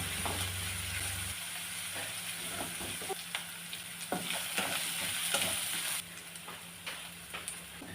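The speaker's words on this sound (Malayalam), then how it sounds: "ഈ കറിവേപ്പില വെളുത്തുള്ളി എല്ലാം ഇട്ട് കൊടുക്കുകയാണ്. ഇതൊന്ന് മൂപ്പിച്ചെടുക്കാണ്." Curry leaves and garlic sautéing in oil for a fish curry: a bright, steady sizzle with frequent spatula scrapes and taps against the pan, close and alone, no speech.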